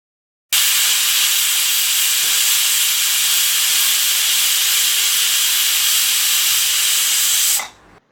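Pressure cooker on a stove cooking duck in coconut milk curry, releasing a loud, steady broadband hiss of steam that runs unbroken for about seven seconds before cutting off abruptly.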